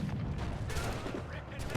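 Ship cannons firing in Assassin's Creed 4: Black Flag, a dense rumbling barrage of overlapping booms in a continuous roar at sea.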